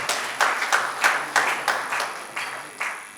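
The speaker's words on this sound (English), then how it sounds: "please a round of applause" Audience round of applause, heard as a sparse, regular series of about eight distinct claps, fairly close and spaced steadily apart, with no talk.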